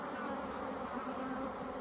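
Honeybees drone in a steady, dense buzz during a hive inspection, close and continuous without pauses.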